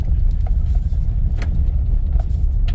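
A Nissan Frontier Pro-4X truck rolling downhill on gravel roads under hill descent control, a low steady rumble of tires and drivetrain with faint crunching ticks, close and continuous.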